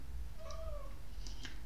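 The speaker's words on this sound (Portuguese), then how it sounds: "O gatinho me anda aqui." A small kitten gives a single drawn-out meow at close range over steady low room hum, followed by a couple of faint brief clicks or chirps.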